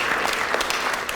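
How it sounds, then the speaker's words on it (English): Participants at a teaching session clap together in a brief, dense burst of applause, close and continuous for about a second. "give yourself a applause"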